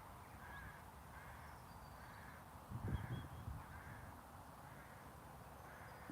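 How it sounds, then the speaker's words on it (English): Crows caw repeatedly outdoors during a walk, a steady series of calls spaced about every second, with a brief louder low-pitched rumble partway through. "Stinky crows."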